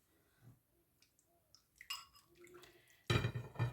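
Tomato paste thinned with water is poured over a tray kebab with potatoes: faint drips and small clinks first, then a louder wet pour near the end.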